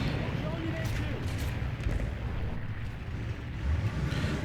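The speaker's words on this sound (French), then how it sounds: "je vais y aller avec la mitrailleuse" Machine gun fire from a Japanese Chi-Ha tank in War Thunder, a steady dense clatter of rounds over heavy low battlefield rumble, loud and continuous throughout.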